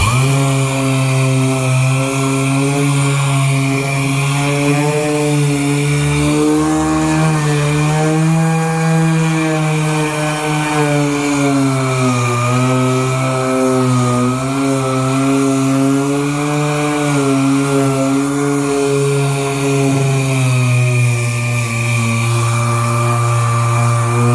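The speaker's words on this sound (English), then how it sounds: "So we're gonna get the sanding on this thing, man." A power sander works over a car body panel during budget bodywork, a loud continuous whirring drone with a steady tone that wavers slightly in pitch throughout, close and uninterrupted, with no voices.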